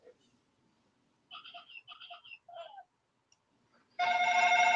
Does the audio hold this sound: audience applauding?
no